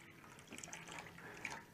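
Alkaline 9.5 pH water is poured straight into a drink, giving a faint, continuous trickling splash with a few brief drip-like accents.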